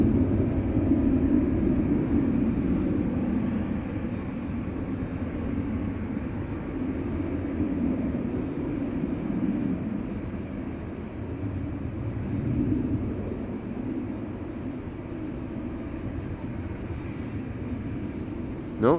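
An Embraer 190 jet departing Amsterdam Schiphol Airport gives a steady, loud engine roar and broad rumble that holds throughout and eases slightly toward the end.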